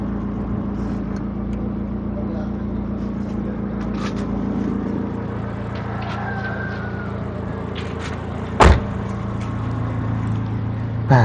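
Used Suzuki Baleno Genio car with a 1500 cc fuel-injected engine idling steadily at close range, a constant low hum with no revving and one sharp knock near the end.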